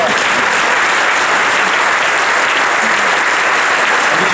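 Dense, sustained applause from a large audience at a Ford factory event at the Saarlouis plant, loud and unbroken throughout with no voices on top.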